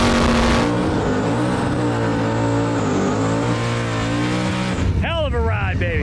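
An 1100hp Nissan R32 GT-R with a turbocharged LS engine, heard from a ride-along at a Powercruise Sydney event, holds a loud, steady engine drone throughout with a rising sweep near the end. Voices talk over it.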